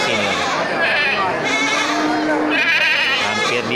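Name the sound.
female goats bleating at livestock market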